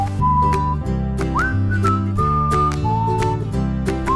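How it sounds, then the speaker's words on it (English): People whistle a lively theme-song melody together, a steady bright tune carried over a continuous musical backing, filling the clip from start to finish at a close, loud level. "Could we whistle the theme song to Yes. a coffee break?"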